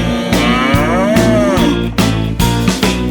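A cow moos loud and drawn-out within a Slovenian children's song, layered over a bouncy accompaniment with steady beats.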